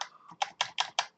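Keys clack on a repaired Atari 1200XL computer keyboard after a mylar membrane fix, about five crisp, close, evenly spaced keystrokes alone in a quiet room.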